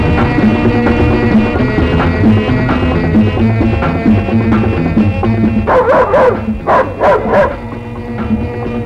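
A dog barks in a few sharp, loud bursts near the end, over a continuous layer of music from an old Telugu film scene.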